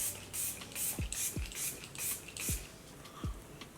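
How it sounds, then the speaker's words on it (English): Makeup Revolution Super Dewy setting spray misted in a string of short, crisp hissing bursts, about six puffs at an even pace, close and fairly quiet, with faint clicks between them and no talking. "I'm going to be using the Makeup Revolution Super Dewy Spray."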